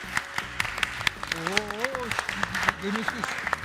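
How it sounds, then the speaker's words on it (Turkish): Scattered applause from a small group on a Turkish cooking competition set, individual claps standing out sharply while people talk over it. "Alkışlayın ya."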